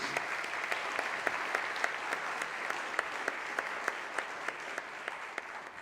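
Members in the Illinois House chamber applaud the WNBA champion Chicago Sky in a sustained, fairly distant round of clapping, with a few sharper individual claps standing out.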